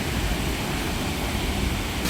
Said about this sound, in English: And here's the top of the waterfall.